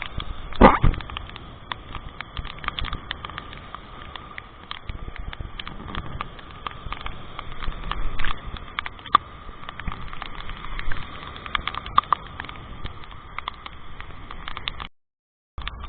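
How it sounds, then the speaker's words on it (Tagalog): Steady broadband patter of rain falling outdoors, fairly loud and continuous, with scattered sharper drops and gusts, cutting out abruptly near the end. "Ayan na! Umuulan na! Ulan! Ulan!"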